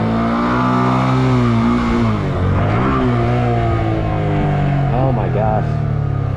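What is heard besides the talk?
motorcycle engine revving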